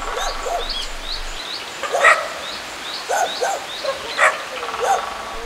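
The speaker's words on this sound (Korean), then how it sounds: "제작진의 접근에 놀라 큰 소리로 짖기 시작합니다." Stray dogs living wild on Bukhansan mountain bark loudly in a few sharp, spaced bursts at middle distance, while birds chirp steadily in the background.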